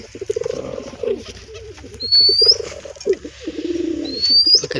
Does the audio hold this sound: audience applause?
no